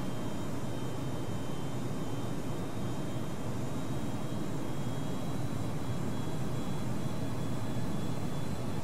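Boeing 757-200 engines spool back up in a flight simulator, a steady broadband jet roar with a faint high whine that holds level throughout.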